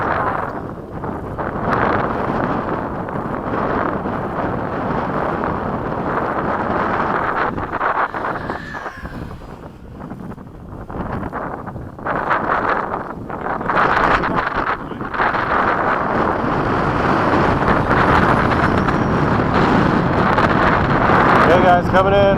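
Gusty wind buffets the microphone at a model jet flying field, a loud, continuous rumbling roar with surges and brief lulls, with voices talking intermittently underneath.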